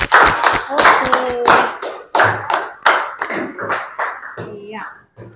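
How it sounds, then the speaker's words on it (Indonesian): Classroom children clapping for a group of classmates, loud near claps in bursts with a voice and chatter heard among them. "tepuk tangan dulu untuk kelompok terakhir ya"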